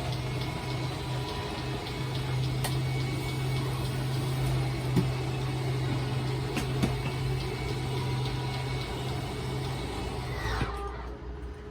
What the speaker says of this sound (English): So those 2 kind of hums from the motors